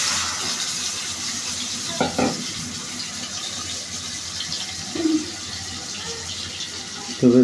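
Hilsa fish frying in a pan gives a soft, continuous hiss, interrupted by a few brief louder knocks and clatters from handling the pan.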